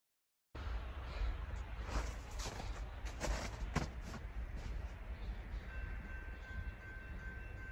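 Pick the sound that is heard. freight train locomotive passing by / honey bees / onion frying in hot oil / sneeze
freight train locomotive passing by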